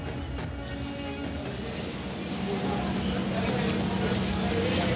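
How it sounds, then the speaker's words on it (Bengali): A train pulling into a railway platform at evening, its wheels squealing and rumbling steadily and fairly close, with crowd noise and voices mixed in throughout. "ট্রেন এসে দাঁড়ালো"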